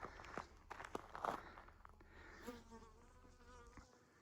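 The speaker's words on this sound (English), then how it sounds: "There's bees out here right now" Bees buzz faintly around a hot, dry desert mine site, a soft, wavering drone after some brief rustling and footstep-like knocks.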